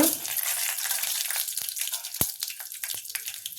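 Mustard seeds, cumin and dried red chilies sizzle steadily in hot oil, a continuous bright frying hiss with a few sharp pops and crackles near the pan.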